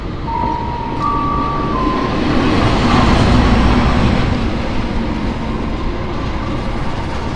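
The KA Brantas passenger train, heard from the rear executive car, rumbles loudly and continuously with a steady rolling roar and faint rhythmic wheel clatter, plus brief tonal whines early on.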